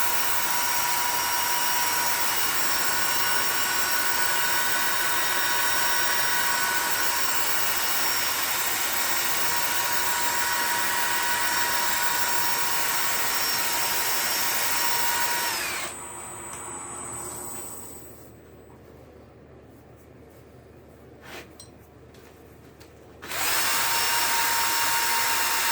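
A spalted beech box is sanded with 120-grit paper on a loud, whining power sander running steadily up close, then cutting out to near quiet for several seconds before starting again.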